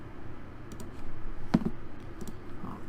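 Computer mouse clicks during a space strategy game, a few soft, scattered clicks with one sharper tap near the middle, over a low steady background hum.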